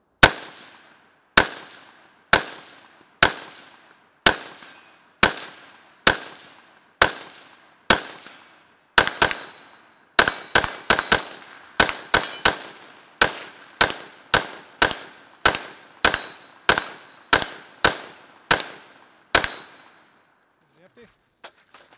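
Semi-automatic rifle fire from a 14.5-inch BCM AR upper with Lancer magazines at a 100-yard range: about twenty sharp, loud, close shots in a steady paced rhythm, each cracking out with a short decaying tail, then the firing stops.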